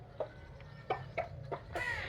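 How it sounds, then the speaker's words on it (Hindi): A rooster on a home farm clucks softly a few times, short scattered calls that sound faint and somewhat distant over a low steady background hum. "ये मुर्गा है, मुर्गी नहीं मुर्गा है।"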